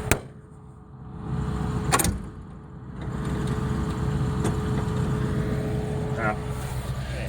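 A flooded Cockshutt 555 tractor engine cranks on a cold November day but fails to catch. A sharp click is followed by a loud, steady mechanical whirring drone that runs for several seconds outdoors.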